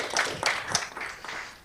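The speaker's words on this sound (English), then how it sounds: "please give a round of applause" An audience at an AI tech demo night applauds after a presentation, with a brief burst of dense, close clapping that tapers off within about two seconds.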